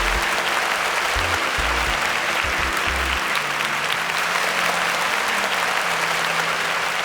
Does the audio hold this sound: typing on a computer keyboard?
no